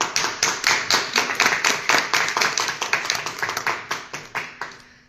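Conference audience clapping for a speaker at a talk on how women's history has been written, a steady burst of many hands that thins toward the end, with no voices over it.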